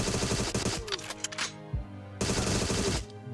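Rapid automatic gunfire rattles in a video game, loud and close, in two dense bursts separated by a brief lull with a few scattered shots and mechanical clicks.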